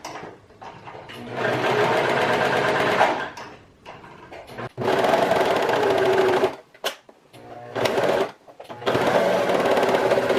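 A sewing machine stitches a dress bodice in several short bursts of rapid whirring, broken by pauses where the presser foot is lifted and the fabric turned, heard up close.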